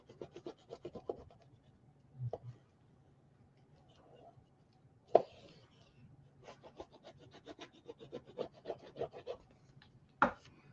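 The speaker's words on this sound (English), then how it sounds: "Now we can just burnish everything down." Paper is burnished down onto a gingerbread village mini album, giving soft, quiet rubbing strokes in short scraping bursts with pauses between.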